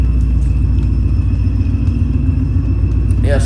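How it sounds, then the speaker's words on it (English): An older ProCharger supercharger with noisy straight-cut gears on a GT500 clone whines steadily over a deep idling engine rumble, close and constant throughout. "It's just straight cut gears are very noisy."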